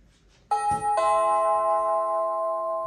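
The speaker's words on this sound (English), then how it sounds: "So we got the ding dong." A Ring Chime Basic electronic doorbell rings a clear two-tone chime, one tone then a second, leaving sustained bright ringing tones that hang and slowly fade.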